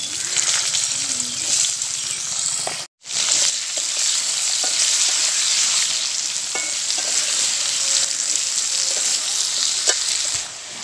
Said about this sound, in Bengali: এবার আমি ওই তেলে আলু ও কুঁদরিগুলোকে ভেজে নেব